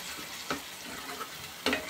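Coriander dropped into a sizzling tempering of oil and homemade spice masala in a pan, a continuous close fry with two short crackling bursts.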